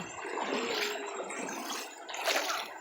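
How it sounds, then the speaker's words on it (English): Dogs swim and bathe in a river, giving a steady wash of splashing and trickling water close by, with brighter splash bursts near the start and again toward the end. "This the river we be bathing in"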